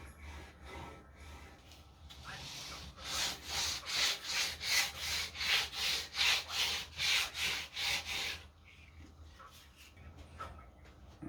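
A small handheld sander rubs back and forth over glued scrap wood in a rapid run of rhythmic rasping strokes, close and fairly loud in the middle, with quieter handling before and after.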